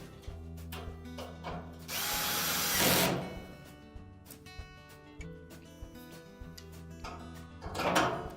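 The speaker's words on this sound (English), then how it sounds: "We can then put the two remaining screws in for that cross piece." A power screwdriver drives screws into the cross piece of a Whirlpool dryer, whirring in two short bursts with a high motor whine, set among quieter handling clicks and knocks.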